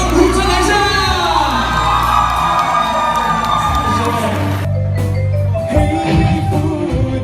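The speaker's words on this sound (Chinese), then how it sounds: "刚才的欢呼声不够整齐，来，欢呼声来下" Wedding guests, friends and family, cheer together in a loud burst of whoops and shouts that fills the room and then settles into a lively, sustained crowd roar.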